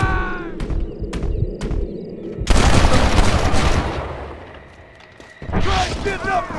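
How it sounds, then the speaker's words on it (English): Rapid bursts of gunfire in the Red Dead Redemption game, loud volleys of shots with echoing booms, pausing briefly and then resuming, with short voice lines between. "Open fire!"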